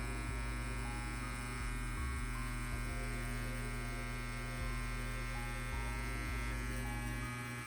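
Rotary tattoo pen machine running steadily while tattooing, a constant faint electric buzz with a tonal hum and small shifts in pitch as the pen works.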